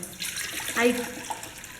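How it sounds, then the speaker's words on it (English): Water transferred into a cooking vessel while preparing broken wheat biryani: a short, steady splashing pour, close up, lasting under two seconds, with faint background kitchen noise. "Meanwhile, we can keep a vessel here and transfer water."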